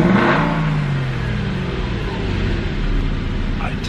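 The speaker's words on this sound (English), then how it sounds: "let's get a bit of a rev here" An Aston Martin V8 Vantage 4.3L engine revs up sharply, then settles into a throaty drone that rises and falls; close and loud.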